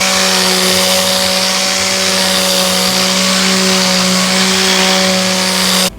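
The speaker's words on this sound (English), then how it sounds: "I'm getting ready to sand and using a handheld sander and using a 22 grit sanding paper on it" A handheld sander with coarse 22-grit paper whines steadily and loudly against a wooden butcher block countertop for about six seconds, then cuts off abruptly.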